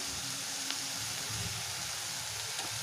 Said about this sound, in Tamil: மறுபடியும் கொஞ்சம் நேரம் நல்லா வதக்கிக்கலாம்